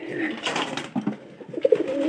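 Soft pigeon coos repeat in short, throaty bursts, close by, with faint rustling between them and no talking, as the pigeons are given feed.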